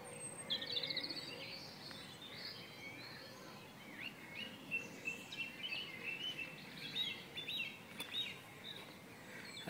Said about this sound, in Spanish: mejor me calle y deje a los pájaros que canten.